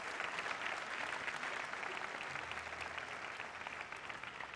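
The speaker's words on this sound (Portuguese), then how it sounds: "Palmas para ela" Faint, distant applause from a concert audience for a dancer at an outdoor gamelan concert, a soft even patter of many hands with a low hum beneath.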